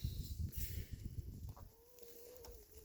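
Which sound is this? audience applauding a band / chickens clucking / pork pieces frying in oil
chickens clucking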